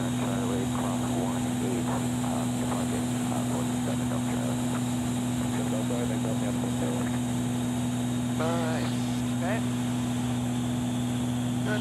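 Engine drone of an Extra 300 aerobatic plane during spin recovery training, a steady loud propeller hum with strong tonal bands running throughout, heard from inside the cockpit beneath people talking over the intercom.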